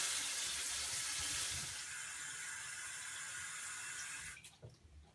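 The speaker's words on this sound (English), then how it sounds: "I'm now going to start to put some water into the reservoir underneath the sink." Water runs steadily into a reservoir beneath a sink, a broad continuous rushing pour that holds for about four seconds, then cuts off with a few small splashes and drips.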